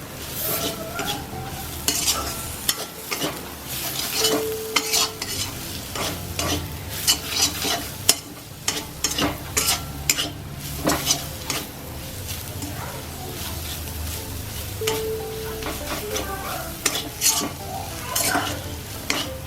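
A spoon scrapes and stirs masala spices, garam masala and turmeric, sizzling in oil in a pan, with steady frying hiss and repeated clanks and knocks of utensil on metal throughout.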